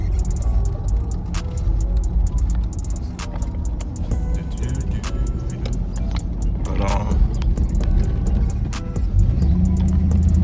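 A Chevrolet box Chevy's engine hums steadily while driving, with a low road rumble and scattered clicks and rattles inside the cabin throughout.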